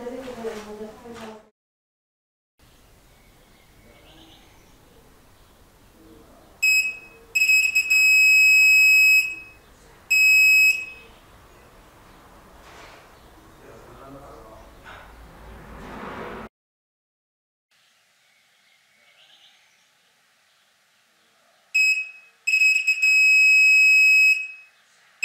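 A paranormal voice and knock detector emits several bursts of loud, piercing electronic beeps, each lasting a second or two, with quiet stretches and people talking softly in between.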